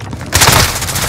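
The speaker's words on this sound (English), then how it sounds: "Allied cruise missile away." A loud, sudden blast and roaring rush from an allied cruise missile strike in Call of Duty Modern Warfare, a short burst that stays dense and sustained to the end.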